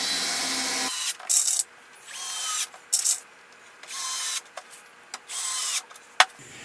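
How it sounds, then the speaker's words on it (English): Power drill driving screws into a wooden potting bench: several short whirring bursts of varying length separated by quiet gaps, close, ending with a sharp click, with no one speaking. "I can now go ahead and finish putting all of the screws in"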